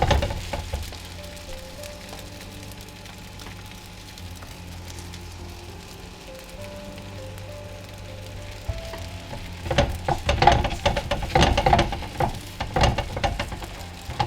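Thin godamba roti cooks on a hot pan with a gentle, steady sizzle under a faint background hum, growing into louder crackling and spattering near the end.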